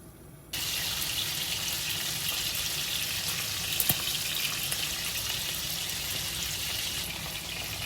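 A whole pound of bacon fries in a pan, and after a brief quiet start a steady, dense sizzle carries on throughout with a few sharper crackles.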